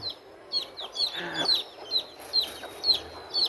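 Hens and newly hatched chicks clucking and peeping on a farm, a quick string of high chirps at a regular rhythm over soft low clucks, fairly close and moderately quiet.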